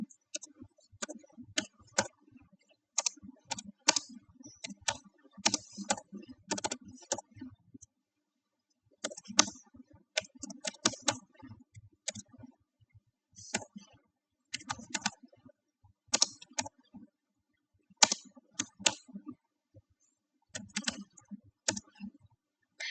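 Program code is typed on a computer keyboard in quick, uneven bursts of crisp key clicks, broken by short pauses, close and fairly quiet.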